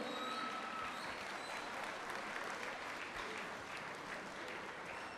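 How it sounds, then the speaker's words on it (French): Sustained applause from a gala pageant audience fills the whole stretch, a dense, even wash of clapping from a crowd with no pauses or talk over it. "veuillez les applaudir, s'il vous plaît."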